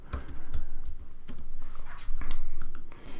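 Fingers type on a computer keyboard in quick bursts of close clicking keystrokes with short pauses between words, no talking.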